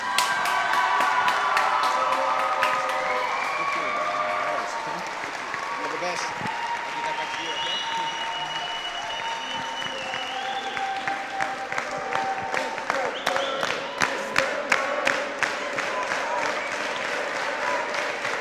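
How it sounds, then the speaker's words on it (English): Audience applauding an award presentation, sustained clapping from a crowd that stays steady, then thins into scattered, sharper individual claps toward the end, with a voice speaking over it. "I give him a huge round of applause"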